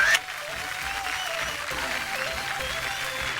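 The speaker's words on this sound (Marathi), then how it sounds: "क्या बात आहे, जोरदार टाळ्या होऊन जाऊ दे." Sustained studio-audience applause on a Marathi TV variety show for women, steady clapping filling the room after a brief louder burst at the start, with music faintly underneath.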